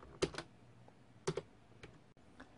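Someone types a password on a computer keyboard, with short clusters of crisp, close keystrokes arriving in two main bursts and a few lighter taps, quiet between them.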